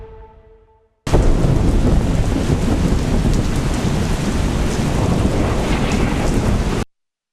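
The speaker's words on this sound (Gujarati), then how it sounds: "મુશળધાર વરસાદ વરસ્યો છે" Heavy rain pours down steadily with low rumbling thunder mixed in, loud and continuous for several seconds before cutting off abruptly.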